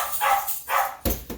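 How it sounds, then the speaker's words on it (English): Dogs bark outdoors in the background during cooking, three or four separate woofs, the last two sharper and closer, alone with no talk. "the dogs are barking at who knows what"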